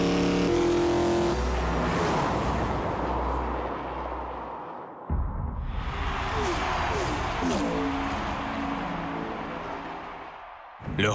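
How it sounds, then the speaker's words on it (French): A Ford F-150 pickup with an EcoBoost engine runs hard on the Homestead Miami Speedway, a loud, close roar that rises and falls as the truck passes, with a sharp cut partway through. "le prochain supplice réservé au moteur EcoBoost de notre F-150"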